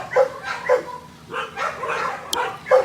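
Several dogs at a dog rescue yip and bark in short bursts, fairly close, with overlapping calls and whimpers and a faint voice in the background.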